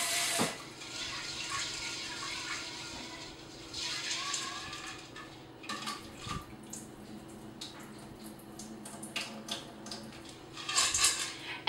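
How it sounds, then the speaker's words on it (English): Running tap water splashes and rushes over beans in a metal pressure cooker pot, with occasional clinks and rattles of handling throughout. "Next, let's rinse the beans."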